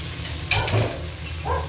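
Crab meat sizzling in a pan as string beans are added and stirred, a soft frying hiss with a few brief clattering bursts of stirring.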